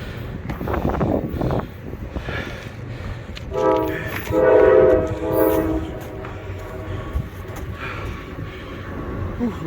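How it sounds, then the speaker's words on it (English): A train passes near a riverside trail by the Allegheny and Kiski rivers. Its horn blasts loud and close in the middle, while rumbling wheels and the clatter of rail cars carry on before and after. "Ooh, we caught a train."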